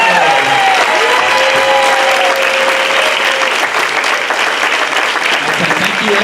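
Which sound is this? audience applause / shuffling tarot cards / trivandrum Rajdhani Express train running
audience applause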